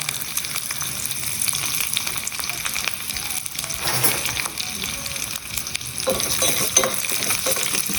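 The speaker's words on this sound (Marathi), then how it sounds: "छान फोडणी तयार करून घ्यायची. लसूण छान परतला गेला पाहिजे." Mustard seeds, chopped garlic, dried chillies and curry leaves crackle and sizzle in hot oil, a steady frying hiss broken by utensil stirring and scraping, with a muffled voice in the background.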